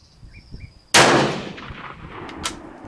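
A single sharp, loud rifle shot from a Steyr on an outdoor range, cracking suddenly after a quiet moment and trailing off in a lingering echo.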